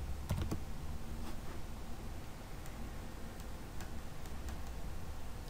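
Quiet, irregular key clicks from a computer keyboard while a spreadsheet is being typed into, faint against a steady hiss of background noise.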